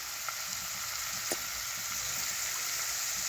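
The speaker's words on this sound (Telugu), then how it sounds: "ఇవి కొంచెం వేగాలి." Freshly washed coriander stems fry in a pan for a chutney, giving a steady dense sizzle close by with a faint tap or two of a utensil.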